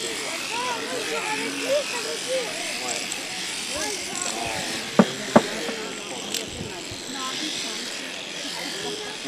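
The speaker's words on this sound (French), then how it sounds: "les enfants ont pu assister à la tonte des moutons" Electric clippers buzz steadily while sheep are sheared at an urban nature farm, with sheep bleating at times and children's voices chattering throughout the scene.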